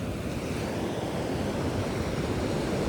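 Surf breaks and washes onto an eastern Australian beach in a steady, dense rumble, loud and continuous, mixed with wind buffeting the microphone.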